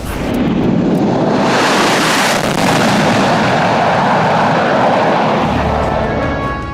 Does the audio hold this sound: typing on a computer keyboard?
no